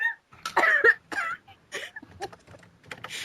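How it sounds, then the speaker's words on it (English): Several short, rough coughs and throat noises in quick, uneven bursts, close to the microphone, with no other sound around them. "I'm sick and I'm laughing and coughing at the same time."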